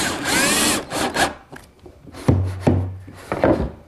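A power drill boring a pilot hole into wood for a stop screw on a chop saw station, giving a few short whirring bursts with brief pauses between them.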